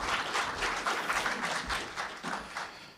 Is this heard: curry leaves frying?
no